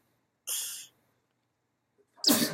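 A short breathy hiss, then a pause, then a sharp explosive sneeze up close.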